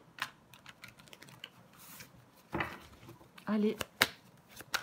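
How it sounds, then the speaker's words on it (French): Tarot cards being turned over on a table: a few soft papery flicks and slides spaced across the moment, close and quiet, with brief speech over them. "Je vais recouvrir des cartes."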